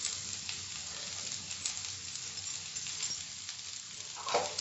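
Boiled egg masala stir-fries in a pan with garam masala, giving a steady moderate sizzle with light stirring scrapes and a short spoon clatter near the end.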